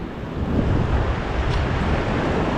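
Surf surges onto an Australian shoreline as the tide rises, a continuous, loud wash of waves with wind buffeting the microphone and no pauses.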